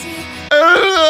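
The opening line of the Rascal Does Not Dream of Bunny Girl Senpai anime opening theme, a brief sung vocal phrase rising in pitch, loud and close.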